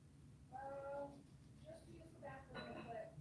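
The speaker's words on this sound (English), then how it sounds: "the cats were meowing and scratching" Cats meowing at a door, several drawn-out meows in a row at close range with faint scratching, while a voice talks quietly in the background.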